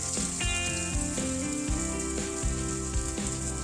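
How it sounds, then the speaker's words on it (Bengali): Onions sizzle and crackle in oil after a quick tempering with dried chili, a steady close frying sound under rhythmic background music, with no talking. "এখানে আমি দুটো মিডিয়াম সাইজের পেঁয়াজকে সরু সরু করে এবং লম্বা লম্বা করে কেটে নিয়েছি এরপর এটাকে আমি ভাজা করে নেব"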